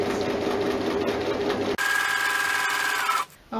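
A sewing machine stitches a seam through oilcloth tablecloth fabric, running as a steady, close mechanical whir that stops briefly, restarts and then winds down.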